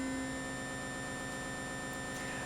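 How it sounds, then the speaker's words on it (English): An Ellitone Multi-Synth in mode 6 holds a steady, distorted electronic drone with sustained buzzing tones and noisy texture, continuous and quiet with no other sounds. "you could definitely get some incredibly distorted and interesting drones"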